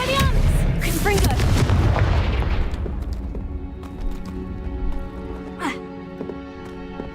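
Loud booming spell blasts with crackling bursts from combat in the Hogwarts Legacy video game, strongest at the start and then fading into an echoing game soundscape with a later whoosh.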